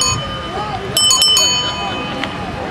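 A bicycle bell rings in a quick burst of several bright metallic dings near the middle, with one fainter ding after, over outdoor background noise and a person talking.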